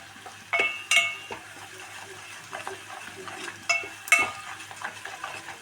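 Spoons scrape and clink against a pan as turmeric, chili and coriander powders are stirred together, giving a few sharp metallic knocks among softer scraping strokes, close and fairly quiet with no talking.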